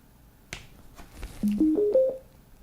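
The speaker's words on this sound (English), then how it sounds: "there's a nice greeting tone to tell you that it's turned on" A Neocore Wave A3.60 budget Bluetooth boom box plays its power-on greeting tone after a click of the button: four short rising beeps stepping upward in pitch, clear and close in a quiet room.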